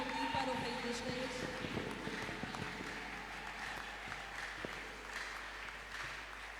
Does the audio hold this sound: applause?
yes